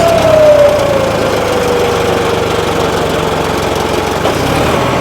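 Close, loud engine of a John Deere 5210 4x4 tractor labouring near stall, a steady rough drone with a falling whine as the revs sag, heard alone without talk.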